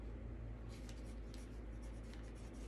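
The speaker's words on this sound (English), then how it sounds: "So what you're going to do is you're going to write." Pen writing on paper while making a self-love affirmation jar, a quiet, close scratching with small strokes running steadily through the moment, faint against a low room hum.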